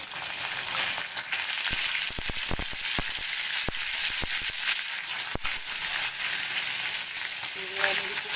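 Cumin seeds and curry leaves hit hot oil in a pan for a fasting-style misal, giving a loud, steady, close sizzle with crisp crackling pops scattered throughout.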